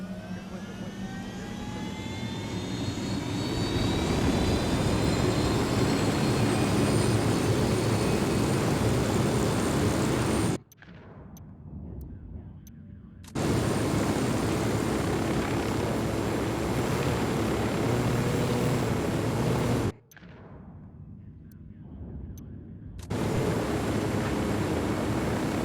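A jet aircraft in Ghost Recon Wildlands roars steadily and loudly with a broad engine rush and rising whine, cut twice by brief near-silent dropouts before the engine noise returns.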